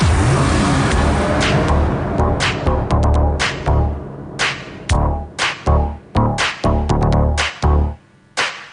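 A loud, close car engine revs as a radio sound effect, throbbing in a series of sharp surges broken by abrupt short gaps, with no talk over it.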